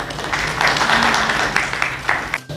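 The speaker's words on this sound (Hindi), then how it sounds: "एक बार ताली हो जाए" Applause from the audience at a national pediatric infectious diseases conference of the Academy of Pediatrics: a short burst of dense clapping at moderate volume that ends abruptly.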